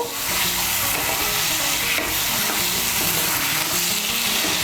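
Fried eggs being mixed into sizzling cooked masala for egg korma, with a continuous loud frying hiss and the bubbling of a close pan heard alone throughout.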